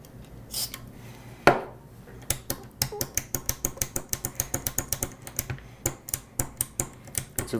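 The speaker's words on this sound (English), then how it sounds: "It's a very clicky switch" A metal switch on a Panasonic RF-561C radio clicks repeatedly, a steady run of sharp, close mechanical clicks after a louder initial clack, with no talking.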